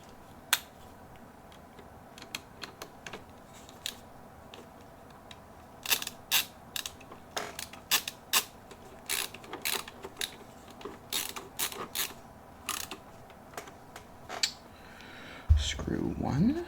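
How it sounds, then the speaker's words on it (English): Three screws driven one after another into a Protogen mask, close up: a run of crisp ratcheting clicks and small creaks, sparse at first and then denser, with a louder knock near the end. "we just have the 3 screws. Just get those done up really quick."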